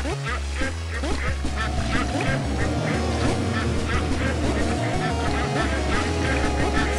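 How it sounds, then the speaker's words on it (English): Ducks quack repeatedly in the pixel-art game PewDiePie's Legend of the Brofist, a busy overlapping chorus of honking calls over game music, with a voice talking on top. "Stupid ducks."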